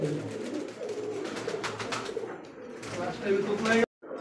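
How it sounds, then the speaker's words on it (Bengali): A pair of coloured Raj Gola pigeons at a large Bangladeshi pigeon farm coo softly and repeatedly in a low rumble, faint against a busy background hum that cuts off briefly near the end. "একজোড়া রাজগোল্লা কবুতর, এটা হচ্ছে কালারিং রাজগোল্লা কবুতর"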